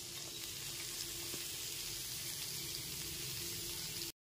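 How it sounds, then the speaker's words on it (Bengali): Chopped onion, a large one, fries in a spice mix for street-style egg chicken rolls, giving a dense, even sizzle that holds steady and loud throughout, then cuts off abruptly, with no talk. "এরপর এর মধ্যে দিয়ে দিচ্ছি একটা বড় সাইজের পেঁয়াজ কুচনো।"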